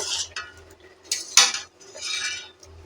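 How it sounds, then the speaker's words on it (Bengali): A metal lid goes onto a pot of boiling red lentils with a few close clanks and clinks, separated by short pauses and a soft hiss. "আবারও ঢাকা দিয়ে দিলাম"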